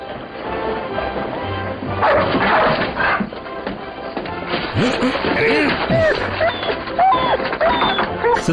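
Several dogs bark and whine in a scene from a 1952 film, the yelps rising and falling over clattering, mechanical knocks and busy background noise.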